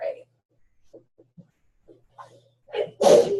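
A single sharp sneeze bursts out near the end, loud and close, following scattered quiet sounds in an otherwise still room.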